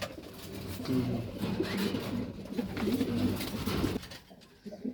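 Pigeons in a racing pigeon loft coo in repeated low, throaty rolls, fairly close and steady, with a soft background hum until the calls fade near the end.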